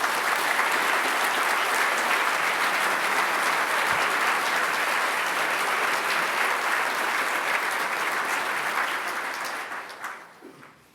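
Sustained applause from a large graduation audience in a hall at GMIT, honouring Bachelor of Science Honours in Quality for Industry graduates, steady and dense for about nine seconds before thinning to scattered claps and fading out.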